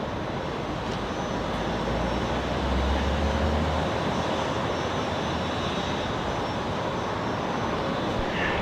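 A USAF C-17 departs Brisbane Airport with a broad, loud jet-engine roar that holds steady throughout, with a low rumble swelling briefly near the start, heard from a distance without talk.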